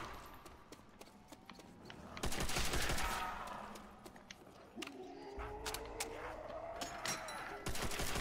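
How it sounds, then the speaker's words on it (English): MG42 machine gun firing in a zombies video game, with rapid bursts of gunfire in quick succession mixed with clattering mechanical game sounds, fairly faint overall. "Ooh, MG42! Those meat sacks are going down."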